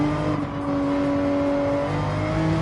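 Race car engine in Gran Turismo 7 holding a steady, buzzing drone as it accelerates, loud and close with its pitch climbing slightly, heard alone.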